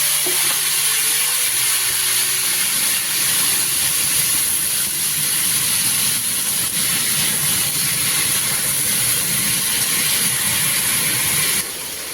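Cumin seeds and a bay leaf sizzle in hot oil in a home kitchen, a steady loud hiss and crackle that runs unbroken for several seconds before easing slightly at the end.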